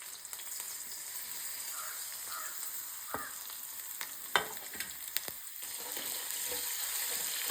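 Shallots and fenugreek seeds fry in hot oil in a pan, giving a steady soft sizzle with occasional pops and stirring scrapes, fairly quiet and with no talking.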